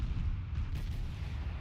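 Deep rumbling naval gunfire from the German cruiser Kolberg in World of Warships, a steady heavy boom-filled roar with a faint crack near the middle, no voices.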